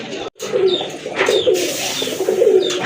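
A large female pigeon coos in a low, steady, rolling murmur that runs for about three seconds, fairly close and loud, with no talking over it.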